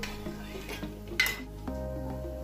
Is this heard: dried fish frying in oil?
yes